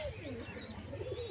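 Local domestic pigeons coo faintly in a soft, wavering, rising and falling call across a brief moment.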